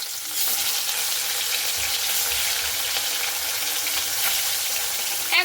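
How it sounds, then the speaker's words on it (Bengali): Turmeric-and-salt-rubbed rui fish fry in hot mustard oil, a loud, dense, continuous sizzle with faint low knocks beneath it. "এক ব্যাচে কিন্তু এই মাছগুলো ভেজে নিলাম"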